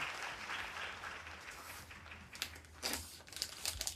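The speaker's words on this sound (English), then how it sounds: "Please give a big applause to them." An audience at an international hemp environmental forum in Kyoto claps, a faint, scattered patter of hands that grows into a few brief, sharper bursts toward the end.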